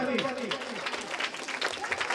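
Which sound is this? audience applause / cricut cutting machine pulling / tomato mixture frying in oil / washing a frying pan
audience applause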